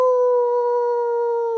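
A single sustained howl imitating a wolf baying at the moon, loud, steady and close, holding one pitch without a break.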